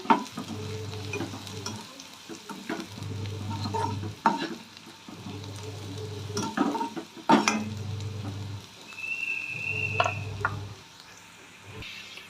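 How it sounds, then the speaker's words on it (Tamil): Onions sautéing in a pan for Tamil-style onion rice, with a steady sizzle broken by repeated scraping and stirring strokes of a spatula against the pan, close and fairly loud, no talking. "வெங்காயம் இந்த அளவுக்கு வதங்கினா போதும்"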